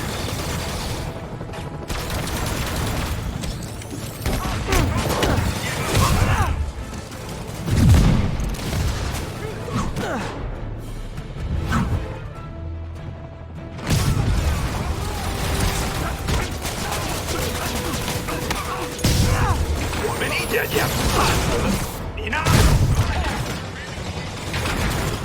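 Bomb explosions ripple through the city in Marvel's Spider-Man (2018), heavy booms and rattling bursts recurring across a dense, continuous game mix with mechanical clatter, loud and sustained, with voices talking at points.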